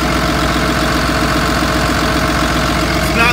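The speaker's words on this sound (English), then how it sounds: "It's idling smooth. Revs up nice." A 2010 Freightliner Business Class M2 ambulance diesel engine idles loud and close with a steady low rumble and a rhythmic knocking pulse that holds even throughout, no talk heard.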